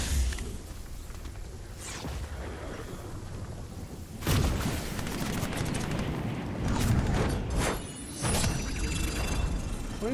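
Gunshots in the Fortnite video game, several sharp loud cracks and bursts landing in clusters against a rumbling game background, with no one talking.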